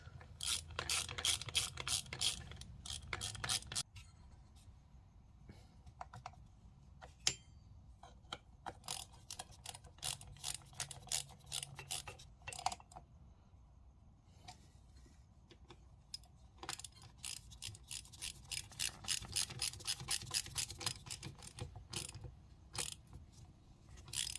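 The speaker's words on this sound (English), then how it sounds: "I'm just gonna get back to wrenching on this." A ratchet wrench clicks away on a Honda Spree scooter, with bursts of rapid fine ratcheting separated by pauses and quieter handling noises, fairly close and with no talking.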